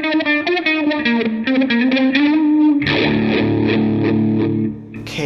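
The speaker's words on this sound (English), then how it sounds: "we have like a auto phaser and wah, possibly just wah with a heavier distortion" Electric guitar through a NUX MG100 preset with wah and heavy distortion plays a loud run of rhythmic notes, then shifts into thick sustained chords that fade out.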